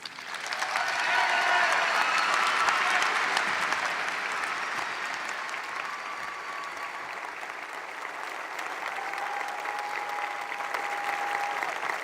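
Sustained applause from a commencement audience welcoming a graduating student speaker, dense clapping swelling early then holding steady for about twelve seconds with faint crowd murmur and a few whoops underneath.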